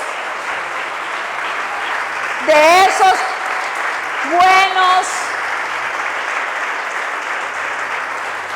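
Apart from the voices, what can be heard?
congregation applauding in church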